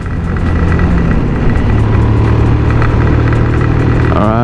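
A Hyperclutch Espada motorcycle engine drones loud and close in fifth gear as it climbs a steep hill. The rumble holds steady, and the pitch rises briefly at the end.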